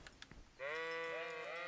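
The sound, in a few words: sheep bleating in the video game Kingdom Come: Deliverance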